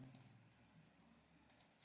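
Computer mouse clicks, a quick double click at the start and another pair near the end, crisp and close in a quiet room.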